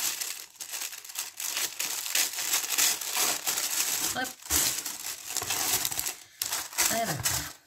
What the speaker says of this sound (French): Je vais juste enlever le papier.